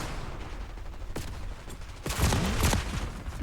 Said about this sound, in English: Incoming grenade! Incoming flashbang!